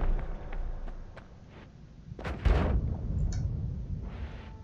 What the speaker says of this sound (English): I can still hear explosions going off upstairs